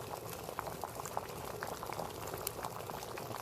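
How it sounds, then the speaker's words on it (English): Water boils hard in an open-lid electric kettle running on inverter power. The bubbling is a continuous, close, fairly soft rumble with crackles and pops, and nothing else is heard. "The water will continue boiling"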